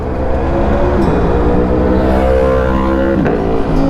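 A loud, steady motorcycle engine roar with deep rumbling exhaust, likely an Aprilia Tuono 1100 V4, holding a constant throttle throughout, with a brief pitch shift near the end.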